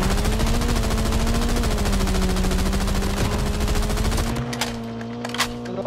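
Rapid, continuous automatic gunfire rattles loud and close in a Call of Duty Mobile battle royale match, then cuts off, leaving a few scattered distant shots.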